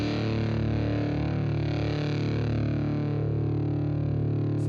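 Electric guitar played through a Headrush processor with the fuzz effect turned up, giving a thick, saturated, distorted tone that sustains loudly and steadily without a break.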